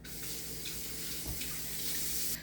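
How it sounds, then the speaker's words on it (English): Water runs steadily from a kitchen tap onto hands being washed, a continuous close hiss and splash with slight shifts in flow, no voices. "let me wash my hands 1 second"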